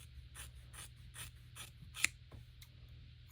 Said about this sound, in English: I'm just going to take some scissors